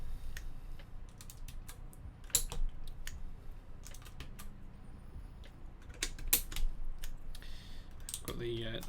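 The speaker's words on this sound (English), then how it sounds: "I'm just going to take the keys that I need from here and put them onto the board" Keycaps are pressed onto a Klippe mechanical keyboard fitted with Phoenix switches, giving sparse, sharp plastic clicks and clacks spaced irregularly over a low, steady background hum.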